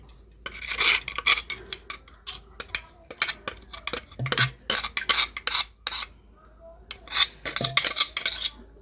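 Spoon clinking and scraping inside a container as a spice mix is stirred into curd for buttermilk, loud close bursts of rapid metallic taps separated by short pauses, without talk.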